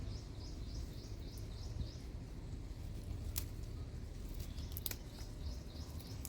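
A few sharp, quiet snips cut flowering coriander plants in a terrace kitchen garden, spaced irregularly over a low outdoor hush with birds chirping repeatedly in the background.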